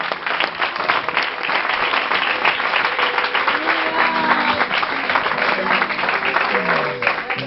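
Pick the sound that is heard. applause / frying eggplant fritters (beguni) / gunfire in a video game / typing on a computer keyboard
applause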